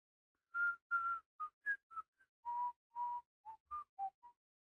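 One person whistling a short tune indoors, about a dozen clear, pure notes at varied pitches, some held and some clipped, with quiet gaps between them; soft but close, alone against silence.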